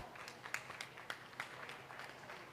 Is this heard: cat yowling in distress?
no